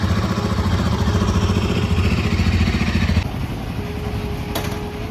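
Engines chug close by as vehicles and motorcycles pass on a sloped road near Rishikesh, a loud rumble that cuts to a quieter idle partway through, followed by a short sharp sound.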